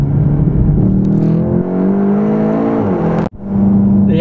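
A Volkswagen hot hatch engine pulls hard with a loud, close induction and exhaust note, its droning tone climbing steadily before a brief cut and drop, like a gear change, then resuming strongly.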